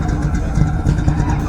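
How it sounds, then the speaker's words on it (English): An original Chevy truck engine rumbles low and steady at a car show as it drives past, a continuous mid-volume drone with slight throttle swells. "Original Chevy truck."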